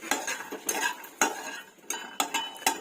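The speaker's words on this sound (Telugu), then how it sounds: "ముక్కుడులో వేయించుకోవాలి పల్లీలు దూరగా వేయించుకోవాలి" Peanuts dry-roasting in a kadai are stirred, giving repeated sharp scraping clinks of a utensil against metal in irregular strokes, close and fairly loud, with no talking.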